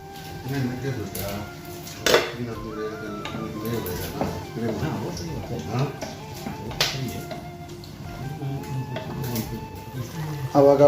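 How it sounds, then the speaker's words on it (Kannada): A spoon stirs Tulu-style chicken sukka masala in a pan, scraping and clinking against the metal in irregular strokes, with sharper knocks now and then and someone speaking throughout. "ಆವಾಗ ಚಮಚ ಹಾಕಿ ತಿರುಗಿಸ್ತಾ ಇರಬೇಕು"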